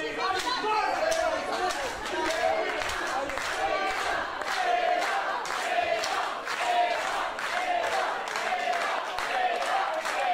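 A wrestling crowd at an Evolve tag match rallies behind Ava Everett, a loud, dense roar of cheering and chanting with rhythmic claps or stomps pulsing through it, under continuous talk.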